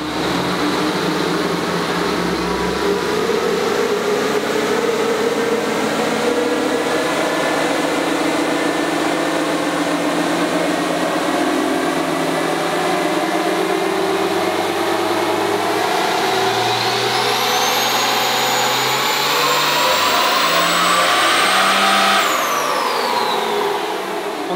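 A twin-turbo diesel truck engine runs on a dyno, building from a steady loud drone into a hard pull as a rising turbo whistle climbs, then drops off sharply as the throttle closes.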